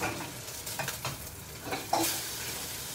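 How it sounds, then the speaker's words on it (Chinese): Prawn fritters sizzle in a generous amount of hot oil while being stirred until crisp, a steady close crackling hiss with occasional utensil scrapes. "然后你就是把它煎到脆脆。"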